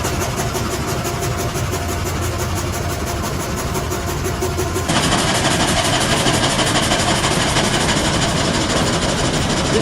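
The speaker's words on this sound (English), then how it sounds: "a crazy machine called frame saw. And it is processing giant logs quickly." Sawmill frame saw processing giant logs: a loud, continuous mechanical roar with heavy engine-like drone, steady throughout and stepping up slightly louder and harsher about halfway through, no talking.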